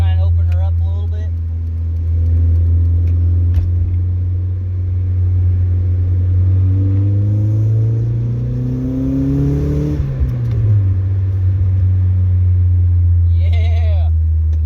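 A car with a worn, high-biting clutch drones loudly as its engine is opened up, the pitch sweeping steadily upward under acceleration and then dropping back to a lower hum, close and continuous, with brief voices at the start and end.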